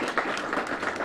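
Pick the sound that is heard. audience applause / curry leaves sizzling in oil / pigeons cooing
audience applause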